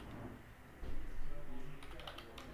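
C++ code is typed on a computer keyboard in a rapid, close burst of key clicks that thickens midway, with no talk.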